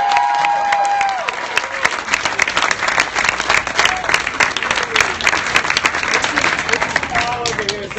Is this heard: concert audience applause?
yes